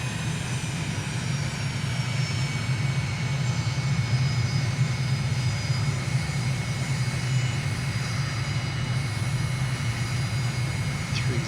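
A fixed-wing airliner on final approach into Dubai in Microsoft Flight Simulator gives a steady, loud engine drone with a low rumble and a faint high whine, unbroken throughout with no talking.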